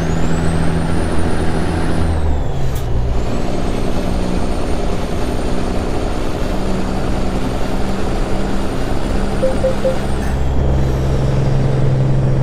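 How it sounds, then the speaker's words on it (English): A truck with a Cat engine running steadily in Euro Truck Simulator 2, a loud continuous drone with a whining tone and an air-brake hiss partway through. "I decided to go with a cat engine this time, and it actually sounds pretty good."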